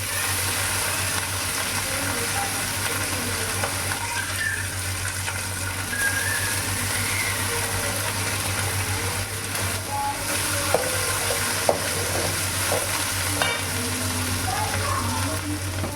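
Onions and curry leaves fry in a pan at home while fish curry is cooked, giving a soft continuous sizzle with occasional light stirring scrapes, and a steady low hum runs underneath.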